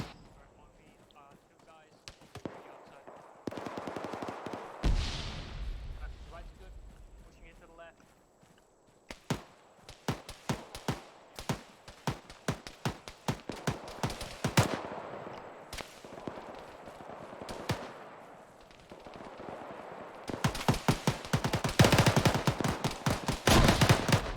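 Machine guns and rifles crackle in an ArmA 3 military firefight, sharp individual shots turning into dense rapid bursts that grow louder and more frantic toward the end, with a voice speaking briefly early on.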